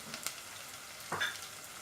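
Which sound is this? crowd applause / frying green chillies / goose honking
frying green chillies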